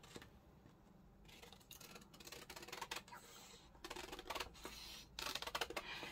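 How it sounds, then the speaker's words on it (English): Scissors cutting through a paper envelope, a run of crisp snipping and rustling strokes that grow louder and denser toward the end, heard close up with no talk. "So I'm just going to cut this bottom."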